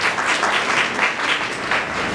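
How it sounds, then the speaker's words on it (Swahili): Audience applause at a university careers talk, a steady close wash of many hands clapping that keeps an even level throughout, with no voices over it. "Naomba tujipigie makofi kwa kuja."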